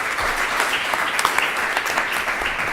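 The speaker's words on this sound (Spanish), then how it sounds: "Un aplauso para ustedes, señores." Applause from an audience at a round-table discussion on curating and muralism: steady, dense clapping throughout the short stretch, fairly loud and even, with no pause.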